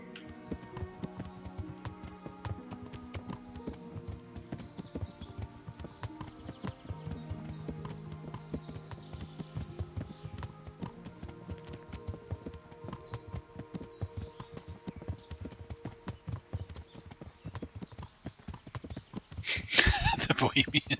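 Steady clip-clop of horse hooves at a walking pace while riding in the medieval Bohemian game Kingdom Come: Deliverance, continuing throughout with faint background sounds and a louder burst of noise near the end.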